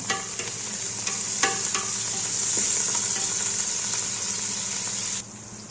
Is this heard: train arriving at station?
no